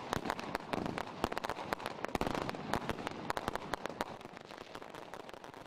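Fireworks and firecrackers going off ahead of the Fourth of July, a rapid irregular string of sharp popping cracks and bangs over crackling, fairly close and steady throughout.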